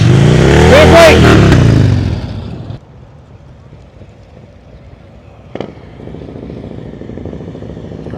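A motorcycle revs loudly up close during slow-speed riding practice, its engine droning strongly for about two seconds and then dropping to a quiet idle with a sharp click, while talk carries on underneath.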